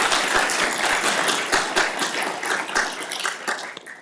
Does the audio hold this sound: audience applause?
yes